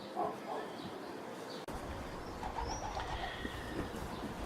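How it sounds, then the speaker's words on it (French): Pigeons coo softly amid diffuse ambient noise on the second-level landing of the Saint-Merry church, with a brief clunk partway through and no talking. "Avec nos amis les pigeons."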